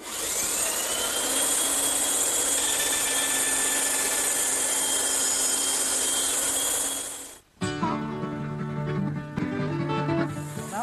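A bandsaw cuts a wooden tenon for a Mission-style sofa, making a loud, continuous, whining roar for about seven seconds. The roar stops abruptly and is followed by brief tonal sounds.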